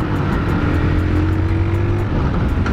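A 1989 Suzuki GS125 motorcycle engine drones loudly and steadily while accelerating through the gears, its pitch rising and then dropping briefly near the end as if shifting. Wind and road noise sit under it, with no talk.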